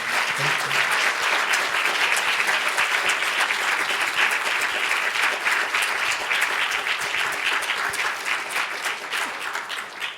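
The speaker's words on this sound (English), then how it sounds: "Can we give the panel another round of applause, please?" Audience gives sustained applause for a panel on abstraction and art, dense continuous clapping at steady volume for ten seconds, tapering slightly at the end.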